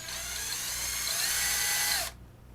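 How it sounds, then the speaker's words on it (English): A drill bores into a flexible plastic part of a Monogram/Revell Battlestar Galactica Viper Mk1 model kit, a steady close whine holding for about two seconds before cutting off abruptly. "the plastic's a little too flexible to drill like that"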